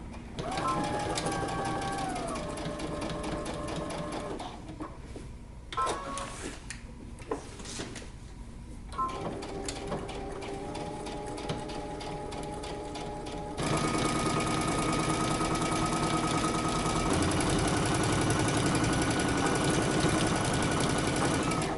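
A sewing machine stitches a jacket hem for Simplicity 8093, running in a steady close whir with short pauses and restarts, while someone talks over it.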